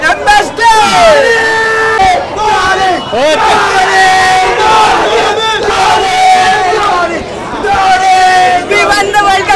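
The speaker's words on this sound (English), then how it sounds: "the crowd will go chanting Dhoni, Dhoni, Dhoni" Theater audience loudly chanting and cheering for Dhoni, a dense roaring crowd of shouts, whoops and rhythmic chants sustained throughout at close, overwhelming volume.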